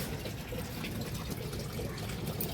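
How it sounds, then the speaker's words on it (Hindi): Water pouring and filling into a washing machine drum indoors, a steady continuous rush with gentle trickling texture throughout, moderately close and even in level, no talk over it. "मैंने लगा दी मशीन, पानी भरने लग रहा"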